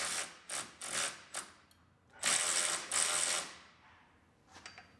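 Hand ratchet working loose the bottom bolt of a 2019 GMC Sierra Denali pickup's shock absorber, several short clicking bursts of ratcheting, close but fairly quiet, with pauses between strokes.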